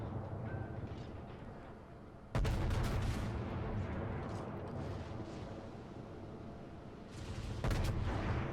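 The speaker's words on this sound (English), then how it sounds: "I decided to go ahead and take a couple of shots back at him." Heavy naval guns boom from a battleship in the World of Warships naval combat game, two sharp loud broadband blasts with rumbling tails over a steady low battle drone, the second salvo near the end.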